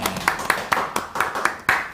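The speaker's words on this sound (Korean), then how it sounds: "여러분 박수 한번." An audience clapping to welcome a guest on a Korean talk show, a short burst of crisp, rhythmic claps in a quick even beat, close and fairly loud.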